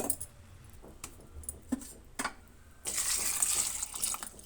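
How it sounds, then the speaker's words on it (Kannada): Water poured from a small metal pot into a cooking vessel holding chopped tomato for ridge gourd sambar: a few light clinks, then a close, bright splashing pour that runs steadily to the end. "ಈ ಚೆಂಬಲ್ಲಿ 2 ಚೆಂಬು ನೀರನ್ನು ಸೇರಿಸ್ತಾ ಇದ್ದೀನಿ"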